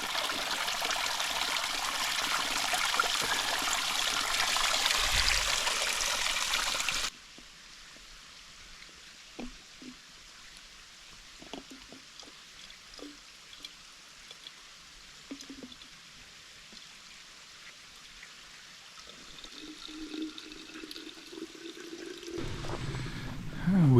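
A mountain stream on Balsam Mountain rushes loudly at first, then gives way to a quieter trickle with scattered drips and splashes close by.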